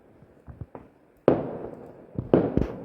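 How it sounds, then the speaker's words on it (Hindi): Sky shot fireworks bursting at night in Dumdhadi, a few faint pops followed by two sharp, loud booming bursts with a brief crackling tail, heard from a moderate distance. "तो कुछ इस तरह से आतिशबाजी हो रही थी डमढाडी में।"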